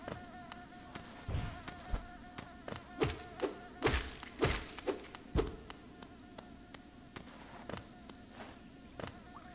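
Bee enemies buzzing in the Hive area of Hollow Knight, a persistent close insect drone with wingbeat tones, punctuated by a string of sharp combat thuds and hits in the first half, no talking.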